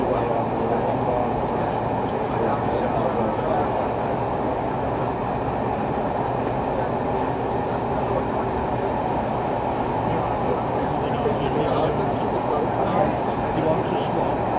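A train hauled by the 7029 Clun Castle steam locomotive on a North Wales Coast Express railtour gives a steady, loud rolling rumble throughout, with voices faintly murmuring beneath it.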